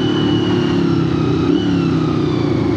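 A Honda VFR400 motorcycle with a quick shifter runs at a steady, close engine drone, a continuous mid-pitched hum with no clear gear changes standing out.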